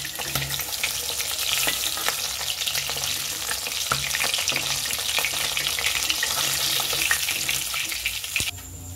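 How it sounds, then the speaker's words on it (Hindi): Fish pieces frying in hot oil for a village-style masala fish curry, a steady dense crackling sizzle with scattered sharp pops and spatters running throughout, close and loud, no talking, ending with a brief dip near the end. "आप लोग देख सकते हैं कि हम लोग का फिश अभी भी फ्राई हो रहा है।"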